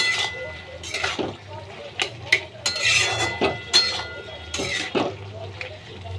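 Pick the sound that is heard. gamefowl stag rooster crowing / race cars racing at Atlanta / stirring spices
stirring spices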